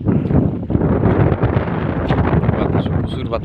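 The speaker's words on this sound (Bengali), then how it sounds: "বাতাস প্রচুর বাতাস" Strong wind buffets the microphone outdoors by a shrimp field, producing a loud, rough, continuous rumble with gusty surges and a voice talking underneath.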